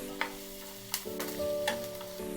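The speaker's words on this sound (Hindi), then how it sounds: "इसे लाइट ब्राउन होने तक फ्राई करेंगे" Finely chopped onion frying in a pan over a raised flame, a steady soft sizzle with a few brief scraping stirs, close and fairly quiet, no voices.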